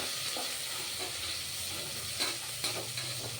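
Chopped onions fry and sizzle in hot oil for a mushroom biryani, with a steady close hiss broken by a few sharper pops and stirring scrapes.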